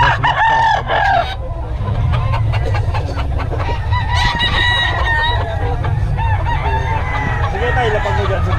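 Chickens and roosters at a poultry sale crow and cluck continuously, loud and close, with several birds overlapping and people talking in the background.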